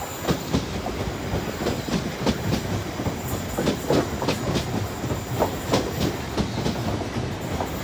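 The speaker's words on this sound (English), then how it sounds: "As we got a Southwestern Railway train now coming in." A South Western Railway passenger train, Class 450 units, rolls into Fratton station close by, wheels clattering in a steady clickety-clack rhythm over the rails, with no one speaking.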